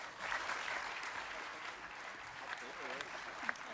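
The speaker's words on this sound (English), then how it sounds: "Can we give Bob a wee warm welcome?" An audience breaks into warm, sustained applause, steady and full, with a voice briefly audible through the clapping.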